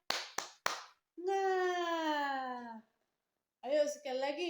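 Three sharp claps from a classroom 'tepuk semangat' cheer open the moment, followed by a drawn-out children's chanted call and more voices, the claps crisp and close but few.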